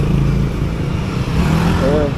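Motorcycles rumble and idle loudly nearby on a group ride at Maragondon sanctuary, with a steady engine drone and a brief rising whine near the end, while someone talks over the noise.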